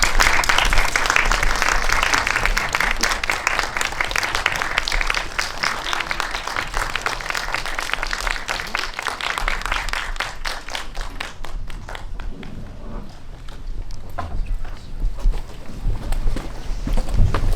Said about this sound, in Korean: 큰 박수로 세 분의 게스트를 맞이해주시기 바랍니다.